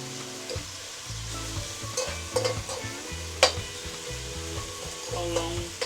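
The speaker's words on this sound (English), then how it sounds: "How long you let the stuff fry for?" Saltfish buljol with tomato, onion, pimento and celery frying in a pan in a home kitchen in Paramin, Trinidad, with a steady sizzle and repeated scraping stirs of a spoon against the pan, fairly close and without talk.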